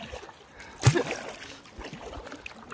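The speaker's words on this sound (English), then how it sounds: "Having fun in some swift water here." A canoe moves through swift river water, with close splashing and rushing water that surge sharply near the start and then keep trickling and lapping.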